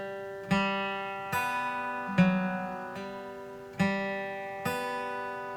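A fingerstyle acoustic guitar plays a measure of five ringing plucked notes at steady intervals, with hammer-ons and pull-offs. The tone is clear and close, with each note left to sustain and fade.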